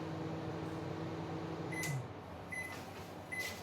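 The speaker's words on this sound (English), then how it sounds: "I'm over here by the microwave" Microwave oven running with a steady low hum while chocolate chips melt inside, a soft high beep-like tone sounding three times near the end in a quiet kitchen.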